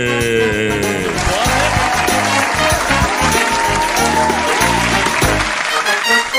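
Loud, dense applause fills the whole stretch at a fantasy baseball fun-fest show, steady and unbroken, with a tonal, music-like layer running underneath.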